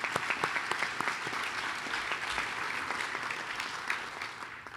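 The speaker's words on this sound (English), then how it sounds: "So let's give a round of applause for you all as well." Audience applause at a Santa Cruz county and city community event on youth suicide prevention, a steady roomful of clapping hands that holds loud and even for several seconds before thinning slightly at the end.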